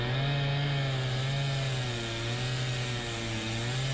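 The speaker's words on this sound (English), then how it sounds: "They are using a powerful chainsaw to cut each log" A powerful chainsaw cuts a log from a large, roughly 600-year-old Zelkova tree, its engine roaring loud and close in a sustained, slightly wavering buzz throughout.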